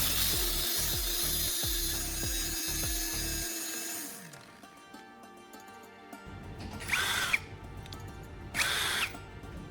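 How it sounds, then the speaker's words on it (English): A hand drill whirs in rhythmic bursts as it spins a rivet, then the rivet head is ground against a grinder disc, giving a steady scraping hum with two louder grinding surges. "I put the rivet into the hand drill and sharpened the rivet head on the grinder disc"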